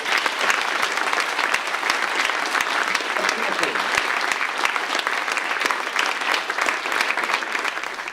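Steady applause from an audience at a school certificate of achievement ceremony, dense and continuous with even clapping throughout, fairly close and loud.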